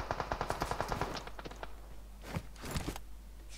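Rapid bursts of AKM rifle fire in PUBG Mobile, a quick string of sharp evenly spaced shots that thins out into scattered rattles and a few louder cracks, with no one talking.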